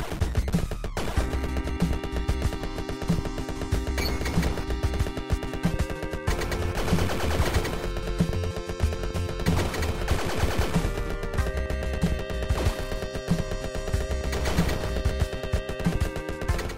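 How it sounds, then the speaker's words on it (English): Rapid machine-gun fire in the retro action game Iron Meat rattles continuously, layered with chiptune-style music and explosive bursts, loud and dense throughout. "And now I'm back to level 1 machine gun."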